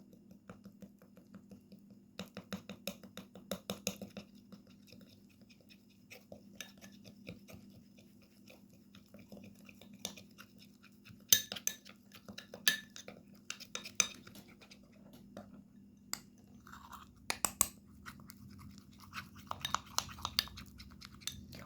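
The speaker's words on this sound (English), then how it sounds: "we need to mix well all the ingredients until the ingredients combine and get very well mixed together" A spoon scrapes and clinks repeatedly against a bowl while stirring a thick paste of coffee and Vaseline, with irregular metallic taps and scraping over a low steady hum, close and fairly quiet.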